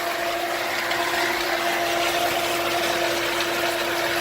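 A well pump runs steadily while pressurizing a home water system after a pump swap, giving a constant, even mechanical hum with a faint whine and no break.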